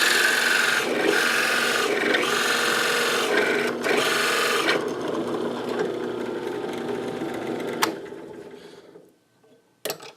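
A steady, loud grinding and rasping of a 22mm drill bit boring into material while making a fidget spinner, continuous for several seconds before winding down, followed by a couple of sharp knocks.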